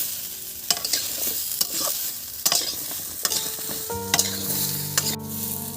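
Mixed vegetables for Bengali shukto are stirred in a wok with spices and homemade five-spice. The sizzle is constant, broken by regular scraping strokes of the spatula, and ringing metallic clinks follow near the end.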